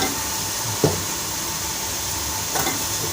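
Potatoes and fenugreek leaves cook together in a pan for aloo methi, giving a continuous close sizzle and hiss with a couple of soft stirring knocks.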